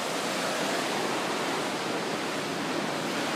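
Roar of a waterfall on the edge of Jajce, crashing onto the rocks below beside a fast-flowing river, a steady, dense rush of water that stays loud and unbroken throughout.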